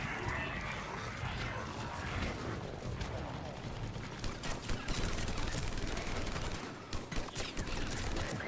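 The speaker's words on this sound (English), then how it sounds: "I get the feeling that this LMG is more accurate than the other one" A light machine gun in the video game Mass Effect 3 fires in sustained, rapid bursts. The crackling chatter sits over dense, loud combat noise, with a speaking voice in the background.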